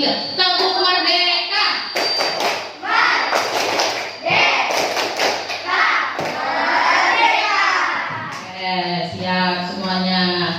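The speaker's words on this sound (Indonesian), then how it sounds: "kita lakukan tepuk merdeka yuk" A primary school class performs the tepuk merdeka rhythmic clap, with bursts of group clapping and thumps in patterned sequences mixed with loud children's chanting and shouting close by.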